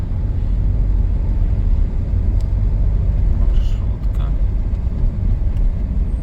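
A Mercedes car driving past at night, heard as a steady loud road rumble and engine drone that fills the whole moment with little change in level.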